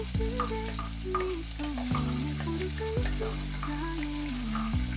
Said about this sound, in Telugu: ఇలా బాగా కలుపుకోవాలి, ఎందుకంటే తొందరగా మాడిపోతుంది.